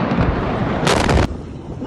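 The port explosion in Beirut heard in news footage: a roaring, rumbling blast with a sharp, bright burst of debris noise in the middle, then a lower, fading rumble.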